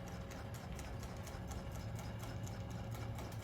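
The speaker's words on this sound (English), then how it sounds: "Here I'm going to set up my machine and press start." A Grace Mini Quilter sewing machine running at medium speed on a tabletop fabric frame gives a steady, fast mechanical whir with a rapid regular needle pulse and light rattle, continuous and close.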